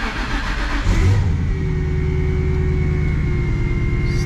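Ford Mustang engine cranking and catching, then settling into a loud, close, steady idle with a rumbling low throb and a faint whine on top, no talking.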